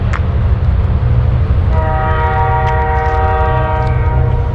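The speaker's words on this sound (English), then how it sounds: "Hear the train in the background." A train rolls past near a river and sawmills, its wheels rumbling loudly while a sustained multi-tone horn sounds from a distance partway through.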